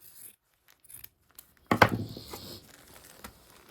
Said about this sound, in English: I'm actually just going to trim my braids just a tish